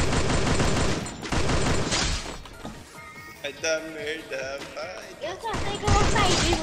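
Gunfire in a video game rings out in rapid, loud bursts and volleys that come and go, mixed with clattering impacts, while players talk over much of the action.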